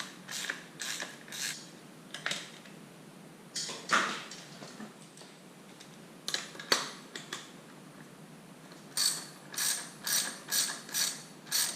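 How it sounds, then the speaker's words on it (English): Allen bolts on the fork guards of a Honda XR50 are loosened with a ratcheting tool, giving bursts of close, rapid clicking that end in a quick run of evenly spaced ratchet strokes. "Loosen the Allen keys for the fork guards."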